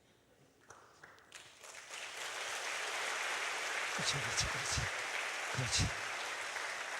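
Church congregation at a Friday revival service applauding the serving elders, a broad, steady wash of clapping building after the first second and continuing throughout, with a brief spoken word near the start.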